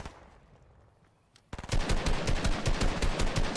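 Fortnite duo match gunfire: a faint shot or two over quiet game ambience, then a sudden burst of rapid automatic fire, loud and sustained to the end.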